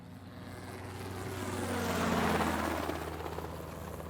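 A helicopter hovers overhead with a steady rotor thrum and engine whine that grows slightly louder toward the middle before easing, heard alone without speech.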